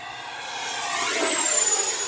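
An XFly Sirius 80mm EDF jet RC plane flies past with a steady rushing whine that swells and gets louder toward the end, heard on its own without talk.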